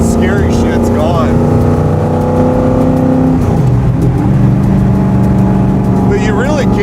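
A 1967 Ford FIA Fastback Mustang engine runs loud and close, a steady rumbling drone that shifts pitch midway as the revs change, with voices talking over it.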